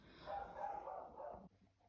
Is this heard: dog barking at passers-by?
yes